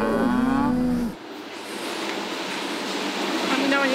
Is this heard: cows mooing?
yes